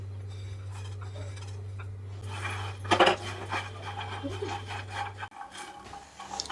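Dry fruits being lightly roasted and stirred in a frying pan over a gas flame, heard as close scraping and rubbing strokes with a louder burst of rattling midway, over a steady low hum.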